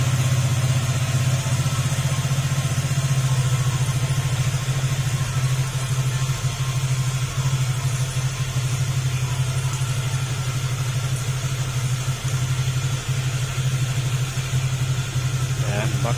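A Honda Click 150 scooter fitted with an aftermarket muffler idles steadily, a loud, even low hum that drones continuously and close by throughout, with someone talking over it at times.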